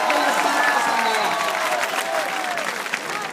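Audience at an outdoor poetry gathering in Mau applauding, a steady crowd clapping with scattered cheers and a few voices, fairly loud throughout.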